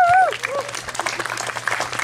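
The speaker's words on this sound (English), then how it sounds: "How about just a round of applause?" Applause from a church congregation at a baptism service, a spread of clapping right after a brief voice, with a low steady hum beneath.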